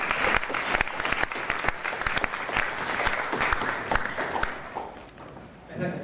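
Audience applause fills a debate hall at a university debating championship after a speech, dense and sustained for several seconds before thinning out near the end.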